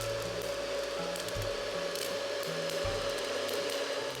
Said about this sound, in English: After adding milk and date syrup, I'm going to run it in the smoothie maker again.